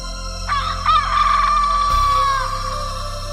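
A cartoon hen squawks as a fox grabs it: one loud, drawn-out shrill fowl cry that rises and holds, then breaks off into a low thump and quieter background.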